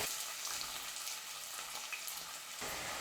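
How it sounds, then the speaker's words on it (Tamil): Sliced onions fry in oil with cinnamon and cardamom, making a continuous soft, hissing sizzle with light stirring, fairly faint and steady throughout. "வெங்காயம் வந்து நல்லா இந்த மாதிரி கொஞ்சம் பொன்னிறமாக வர வரைக்கும் வதக்கிக்கோங்க."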